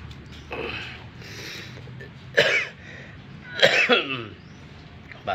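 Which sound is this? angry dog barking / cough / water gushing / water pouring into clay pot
cough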